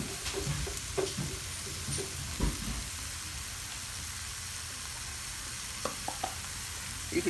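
Sliced mushrooms sizzle steadily in a pan of red wine reduction for ribeye, a constant crackling fry with occasional scraping stirs of a utensil near the start and end.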